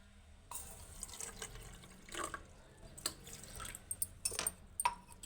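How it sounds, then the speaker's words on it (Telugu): Water poured into a cup holding a small amount of chia seeds, heard as faint, intermittent splashing and trickling bursts in a quiet room, with no talking. "ఇందులో వాటర్ పోసేద్దాం"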